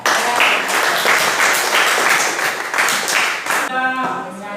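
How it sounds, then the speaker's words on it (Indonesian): Classroom of students applauding at the end of a lesson, a steady burst of dense, moderately loud clapping that fades out at the end as a voice briefly comes in. "Oke, aplaus untuk semua."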